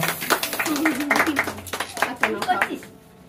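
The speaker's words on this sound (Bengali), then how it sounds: "হাততালি দাও" Scattered hand claps break out among guests at a birthday get-together, a few uneven bursts mixed with lively chatter and voices close by.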